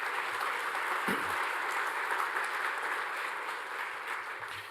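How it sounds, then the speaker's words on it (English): A conference audience applauds at welcome remarks, a broad sustained wash of clapping that runs evenly for several seconds before thinning slightly at the end. "get a round of applause for Rachel and her team for the hard work in pulling this together"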